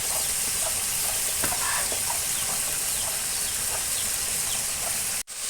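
Curry frying and being stirred in a pan makes a steady, loud sizzle with scattered scrapes. Faint bird calls sound in the background, and the sound cuts out abruptly near the end.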